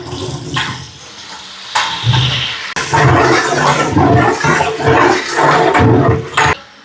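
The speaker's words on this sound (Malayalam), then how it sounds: "അപ്പോൾ എണ്ണ ചൂടായാൽ പച്ചമുളക് ഇടാം" Green chilies dropped into hot oil, giving a loud, steady spitting sizzle with bursts of crackle and a few sharp clatters, close up and with no talk.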